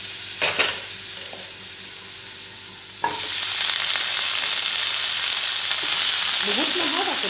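Vegetables drop into a pan of frying dry fish and spice mixture, and a quiet sizzle swells into a loud, hissing, continuous fry with stirring scrapes toward the end.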